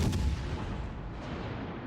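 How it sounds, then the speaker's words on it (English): The cruiser Omaha fires HE shells in World of Warships Legends: a heavy naval gun boom at the start, then a long rumbling decay, loud and close. "We can just keep firing away at him. And although I'm firing HE at him"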